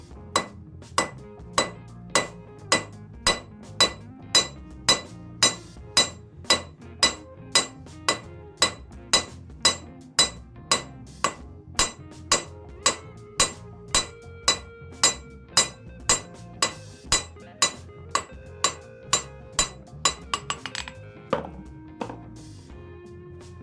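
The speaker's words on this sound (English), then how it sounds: "That is how to forge a step or an isolation in your material" A blacksmith hammers hot steel on an anvil to forge a step, striking a long run of evenly spaced, ringing metallic blows at a steady rhythm, close and loud, ending with a few lighter taps.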